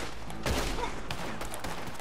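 A single rifle shot from a scoped rifle in Red Dead Redemption 2, a sharp moderate crack with a short decaying tail, then quieter ambient game sound.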